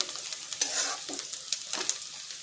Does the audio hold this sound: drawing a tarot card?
no